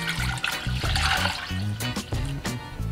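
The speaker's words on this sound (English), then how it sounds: "And then I'll add in about 3 cups of water" About three cups of water pour steadily into a pot on the kitchen counter for a cinnamon and turmeric apple cider vinegar drink, a close splashing, gurgling stream that runs without a break.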